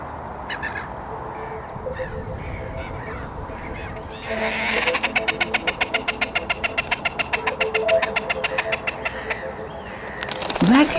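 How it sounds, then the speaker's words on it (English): Black-headed gulls squawking loudly on their breeding sites in a rapid, repeated chorus of harsh calls, rising after a quieter start and continuing steadily, with a sharper cry near the end. "Black-headed gulls are squawking on their breeding sites."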